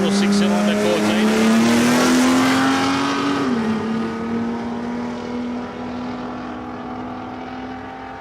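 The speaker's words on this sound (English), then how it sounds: "Luke Spittle in the VL. Luke O'Brien in the Cortina. Little 6-cylinder Cortina" A Holden VL and a little 6-cylinder Ford Cortina race down a drag strip at Palmyra Raceway, a loud engine drone rising in pitch then fading as the cars pull away, with crowd and announcer noise mixed in.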